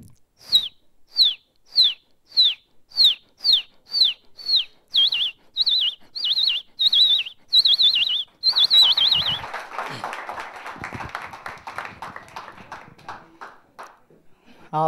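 A voice imitates bird chirps: a rapid series of about a dozen high, evenly spaced whistled tweets, then a fluttery, trilling burst of warbling.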